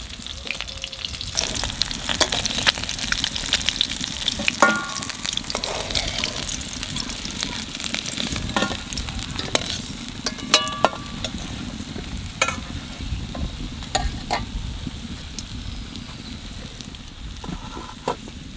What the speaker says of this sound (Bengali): মাছ ভাজা তেলের মধ্যে